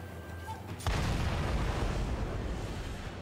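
A mortar enemy fires in Sekiro: Shadows Die Twice, a sudden loud booming blast that cuts in abruptly and leaves a sustained rumbling roar behind it.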